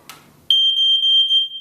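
A smoke alarm sounds during a test after installation, a loud piercing steady electronic tone that starts abruptly after a brief soft rustle and holds nearly unbroken to the end, heard close by with no talking.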